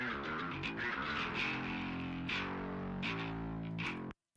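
An electric guitar runs through a TSC Audio BOD overdrive pedal and an amp, giving a thick distorted metal tone with chugging, sustained chords for about four seconds before cutting off abruptly.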